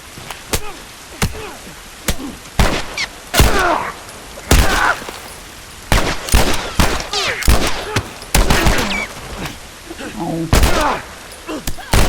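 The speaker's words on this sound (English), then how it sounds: "You can get out of the gunfire." Repeated sharp gunshots and bursts of rapid fire crack throughout, loud and close, with a voice talking in between.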